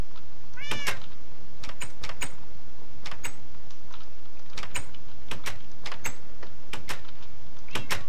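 Minecraft cats meow repeatedly in short, bright calls scattered irregularly over a soft background hiss, some close together in quick pairs, with no voices.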